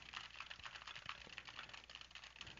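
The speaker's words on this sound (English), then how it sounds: "I'm going to type on this keyboard." Rapid, steady typing on a computer keyboard, picked up through a Turtle Beach Stealth Pro headset microphone with the noise gate off; the light key clicks sound faint and continuous, with no voices.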